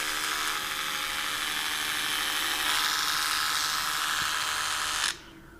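The shaver head of a handheld epilator buzzes steadily at close range for about five seconds, then switches off abruptly.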